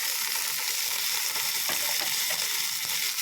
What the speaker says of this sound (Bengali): এবার এগুলোকে লাল লাল করে ভেজে নেব।